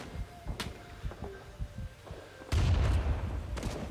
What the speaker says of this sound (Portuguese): O cara não para de jogar granada